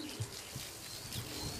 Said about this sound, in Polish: Tu widzimy dwa następne gołębie